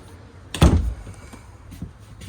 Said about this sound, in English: We'll shut this door